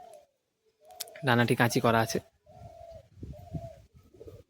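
Madrasi pigeons coo softly in a few short, low phrases around someone talking nearby, the calls close but quiet beneath his voice.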